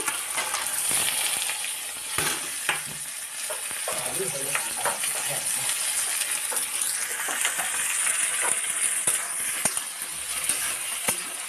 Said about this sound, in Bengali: সবজিগুলো সব আমি ঢেলে দিচ্ছি